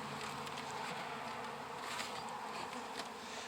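Honeybees buzz steadily at close range in a hive box during spring hive maintenance, a dense droning hum with no voices over it.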